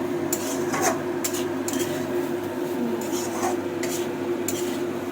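Soybean chunks stirred and fried with spices in a metal pan, a spatula scraping and clinking in repeated strokes over a low, constant sizzle, close and fairly loud with no talk.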